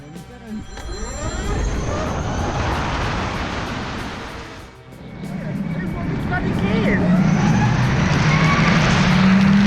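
A 2020 Harley-Davidson LiveWire electric motorcycle accelerating from 0 to 60, a rising electric whine over loud wind rush, dipping briefly midway then building again, with a rider speaking throughout.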